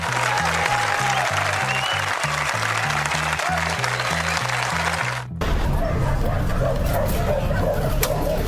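An audience at a Portuguese-language political commentary show breaks into dense, sustained clapping partway through, after an earlier stretch of rhythmic patterned sound.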